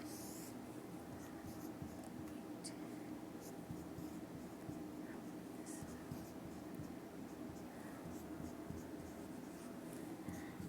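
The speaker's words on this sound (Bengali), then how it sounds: "আমি এখানে সূত্রটা একটু লিখছি।" Pen or marker writing an economics formula for the inflation rate, with steady scratching strokes throughout, faint and close, over a constant background hum, with no talking.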